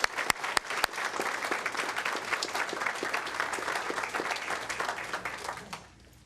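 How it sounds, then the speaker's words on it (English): An audience applauds students called forward at a school board meeting, sustained steady clapping from many hands that swells evenly and then tapers off at the end, heard alone without talk. "Hand of applause, please."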